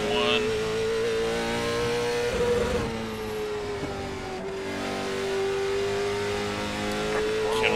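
Race car engine in iRacing on the South Boston track in a CARS Tour car, a loud, steady high-pitched drone with a slight dip in pitch through turn one.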